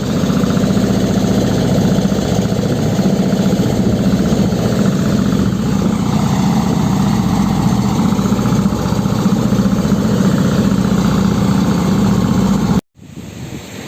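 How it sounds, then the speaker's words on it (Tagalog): A steady, loud, fairly new boat engine idles continuously with a low droning rumble and constant vibration, stopping abruptly near the end, followed by a quieter background hum. "bali pinaandar po natin yung makina"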